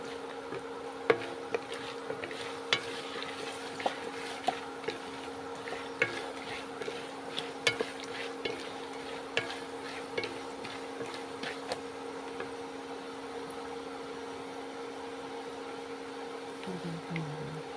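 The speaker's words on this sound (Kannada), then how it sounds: "ಕೊಬ್ಬರಿ ಆಗಿದೆ, ಹುರ್ಗಡ್ಲೆ ಹಾಕ್ತಾಯಿದ್ದೀನಿ. ಒಂದು 2 ಸೆಕೆಂಡ್ ಹುರ್ಕೋಬೇಕು ಅದನ್ನು." Grated coconut and roasted gram being dry-roasted in a pan, a faint steady sizzle with repeated light scrapes and clicks of a spoon stirring against the metal, heard alone.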